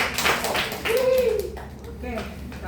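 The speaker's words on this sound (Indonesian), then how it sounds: "Beri tepuk tangan untuk dia ya." Brief classroom applause for a student, a short burst of scattered clapping from a small group, mixed with voices talking over it and fading after a couple of seconds.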